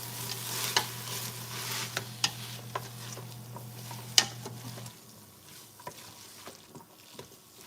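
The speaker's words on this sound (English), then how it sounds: "Stir it up." A spoon stirs a beef stew mixture in a pot, giving scattered light clinks and scrapes over a low hum that cuts out midway, leaving quieter, sparse stirring.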